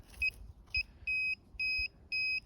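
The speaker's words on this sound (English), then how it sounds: "I'm gonna set it to beep function so you guys can hear it." A Garrett Ace 250 metal detector set to beep mode sweeps over the ground, giving five short high electronic beeps, the first two brief and the last three longer, close and clear over faint background.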